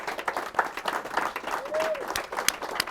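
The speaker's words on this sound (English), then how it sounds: "I wish there was applause after everything I said all the time" An audience applauds at the close of a cinematography conversation event, a dense patter of many hands clapping steadily at moderate distance, with faint voices mixed in.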